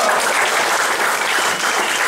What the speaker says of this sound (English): So just give yourselves a big round of applause.